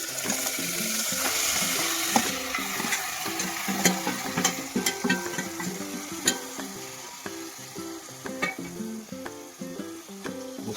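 Village-style chicken frying in a pan with spiced onion and coriander, a steady hiss under repeated scraping and clattering strokes of a spoon against the pan, with no voices.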